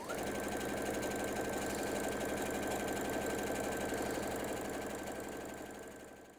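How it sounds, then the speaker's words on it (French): A sewing machine stitching the long sides of fabric strips together for half-square triangle quilt blocks, a close, continuous rapid mechanical whirr that slows and fades toward the end. "je vais coudre ce long côté et l'autre long côté"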